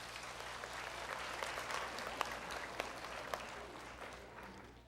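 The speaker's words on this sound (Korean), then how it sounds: "박수 부탁드립니다" Audience clapping to welcome a lecturer at a televised talk on atopic dermatitis, a soft steady patter of many hands from a room crowd, fairly distant, fading out toward the end.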